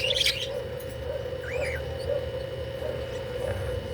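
Pet Texas Clearbody mutation birds chirping faintly in a room, a few short upward-sweeping calls scattered over a steady background hum, with brief higher twittering at the start.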